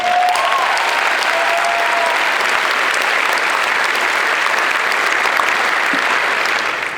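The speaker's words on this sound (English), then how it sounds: "So, if we could applaud them." Sustained, loud applause from a graduation audience honoring administrative staff, dense clapping filling the hall steadily from start to finish.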